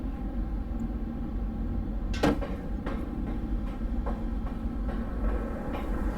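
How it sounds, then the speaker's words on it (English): Heavy doors slam in Amnesia: A Machine for Pigs, a sharp bang followed by several softer knocks and thuds over a constant low industrial rumble, with no voices. "The doors are shutting because I'm not fucking shutting them."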